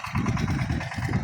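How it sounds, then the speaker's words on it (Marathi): A tractor engine runs in a farm field where guar crop is being tied up, giving a steady, low, rumbling drone heard close and continuous without talk. "ट्रॅक्टर वगैरे चालू आहे"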